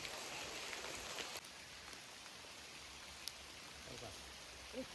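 Rain falls steadily in a village as a soft, faint, continuous hiss, with occasional small knocks and drips and no talking.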